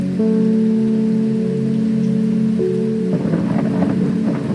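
Thunder rumbles through steady rain in the video game Strange Horticulture. A loud, sustained low roll builds and breaks into crackling rain noise near the end, with no talking.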